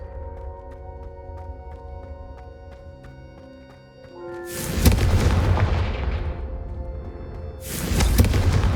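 Confringo fire spells blasting candelabras in the video game Hogwarts Legacy, two loud whooshing booms that flare and fade over a quiet musical background.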